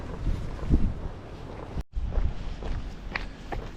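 Strong gusting wind buffets the microphone on a windswept walk, with rough roaring bursts, a brief dropout, and faint footsteps beneath.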